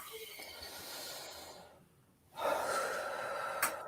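A slow, deep breath drawn in and let out during an energy-healing session, a soft hiss of air close to the microphone with a brief quiet pause in the middle.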